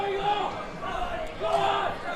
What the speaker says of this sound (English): The crowd is getting behind him.